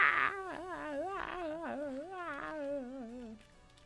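A Minecraft cat meows in a long, wavering series of whiny cries with sliding pitch, each call bending up and down before it fades out near the end.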